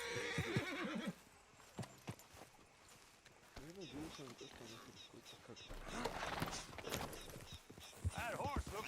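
In the Red Dead Redemption 2 video game, a horse whinnies repeatedly with rising and falling neighs while hooves clip-clop along, and voices talk in between.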